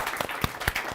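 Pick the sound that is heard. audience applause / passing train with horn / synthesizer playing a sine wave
audience applause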